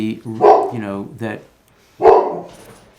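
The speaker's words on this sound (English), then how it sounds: "Let the record show that the dog of the house is very excited here." An excited dog barks indoors in a house, with a few loud, close barks and yips in two bursts separated by a short pause. People talk nearby.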